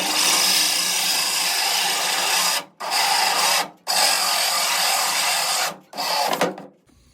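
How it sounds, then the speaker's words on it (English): A power drill bores through a wooden IKEA Besta shelf in four loud, steady bursts with short pauses between them, winding down at the end; no talk. "We're gonna drill right down from there."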